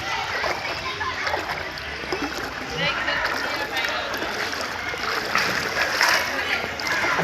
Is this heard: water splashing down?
yes